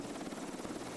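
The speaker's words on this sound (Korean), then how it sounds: "더스트호프 팀의 블랙호크 헬기가 도착해 환자를 이송합니다." Black Hawk medical evacuation helicopter arriving during a joint military air medevac exercise, a steady loud broadband rotor and engine roar with faint rhythmic blade chop throughout.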